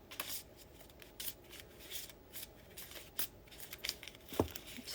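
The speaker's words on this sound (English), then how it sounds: "Just got to do a little shuffle." Tarot cards being shuffled up close: a run of quick, papery riffling bursts and soft slaps, fairly quiet, with no voices.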